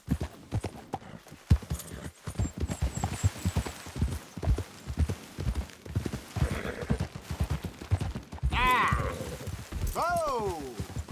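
Horse hooves clip-clop at a steady rhythm in the Red Dead Redemption 2 video game, a moderate level under frequent talking, with a whinny near the end.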